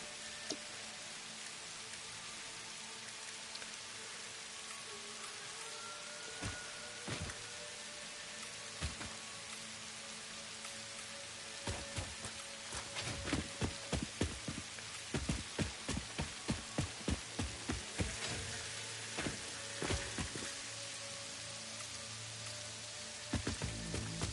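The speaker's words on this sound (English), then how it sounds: "You can hear the rain on the atom above you." Rain patters steadily on a roof overhead in the video game Satisfactory, with a dense hiss throughout and clusters of sharper drops and taps growing busier toward the middle. No one speaks.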